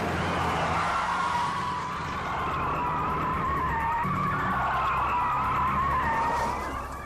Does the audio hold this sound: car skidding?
yes